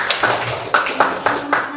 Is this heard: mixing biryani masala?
no